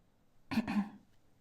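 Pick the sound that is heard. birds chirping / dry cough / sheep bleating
dry cough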